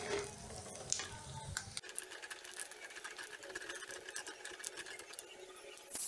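Onions sizzle and crackle steadily in a hot pan for masoor dal tadka, with scraping stirs throughout, heard up close and alone.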